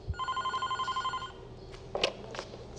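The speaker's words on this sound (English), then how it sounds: "Phone is ringing." Telephone bell ringing in a rapid trill of about a dozen pulses, then stopping, followed by a few faint clicks and knocks as the receiver is picked up.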